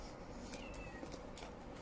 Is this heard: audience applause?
no